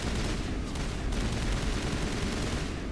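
Rapid bursts of sniper and automatic gunfire in a Mass Effect 1 firefight against Cerberus troops, dense and continuous across the whole stretch with no pauses, loud and close.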